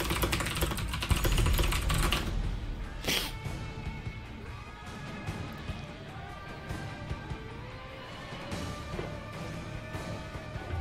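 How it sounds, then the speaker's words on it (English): Computer keyboard typing, rapid clicky keystrokes pattering continuously at close range, with a heavier burst early on and a sharp knock partway through, set under faint game sounds. "I love the sound of keyboards to fall to sleep with."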